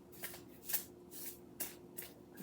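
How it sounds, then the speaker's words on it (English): A deck of cards is shuffled in quick riffling bursts, soft flutters repeating several times close by with no talking. "See if we can't get a good shuffle."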